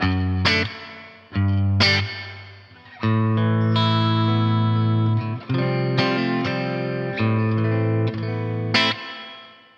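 Electric guitar chords and picked notes through a Boss Nextone amp's spring reverb ring out with a springy, splashy reverb tail, loud and close, with brief gaps between phrases.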